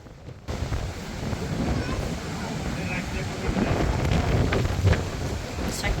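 Strong sea waves and gusting wind at a Sharjah beach make a loud, constant broadband roar with heavy low rumble from wind buffeting the microphone.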